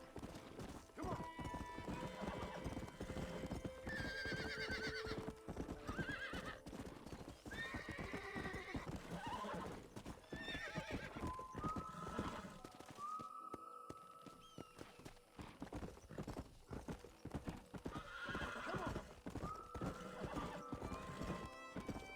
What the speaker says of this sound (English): Cavalo que tem pouco fôlego